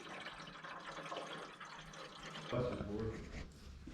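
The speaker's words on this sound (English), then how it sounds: "We're pouring coolant in it." Coolant pouring into a rat rod car, a steady near liquid gurgle and splash that swells louder midway, with voices talking over it.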